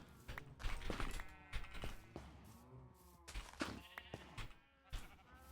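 Sheep bleat repeatedly on a video game sheep farm, loud and close, with several overlapping calls and soft footstep-like thuds in between.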